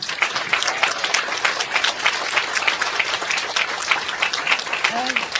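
An audience applauds women farm workers, dense continuous clapping close by with a brief voice near the end.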